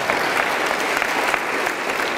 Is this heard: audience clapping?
yes